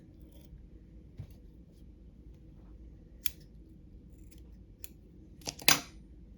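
Scissors snip pink synthetic fibers while a Clouser Minnow fly is tied at the bench; a few faint clicks lead up to one sharp, close cut near the end, in a quiet room.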